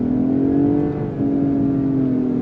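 A 2019 Lexus ES 350 F-sport engine pulls hard under acceleration, a loud, close, rising tone that dips briefly at a shift and then climbs again, heard alone without talk.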